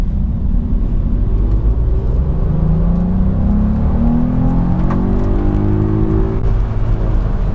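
Volkswagen Up GTI accelerates from a standstill in second gear, a steady engine drone whose pitch climbs slowly as revs build, heard from inside the car, loud and continuous.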